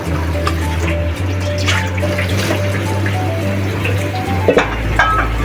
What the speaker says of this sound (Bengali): এখন আমি সুন্দর করে এটা পরিষ্কার করে ধুয়ে নেব